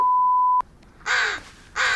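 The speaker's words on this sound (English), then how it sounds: "That little crow." Crows cawing in the Blair Witch survival horror game: a steady electronic beep cuts off, then two loud, harsh caws follow close by.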